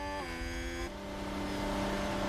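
An F1 car with an engine problem in the racing game F1 Manager 2022 drones with a steady, uneven engine tone that shifts pitch partway through, heard alone without talk.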